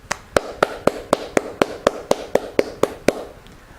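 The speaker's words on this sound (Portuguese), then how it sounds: "batendo uma salva de palmas" A single person's hands clap steadily about a dozen times in a brisk, even rhythm, close and crisp, with no voices over it.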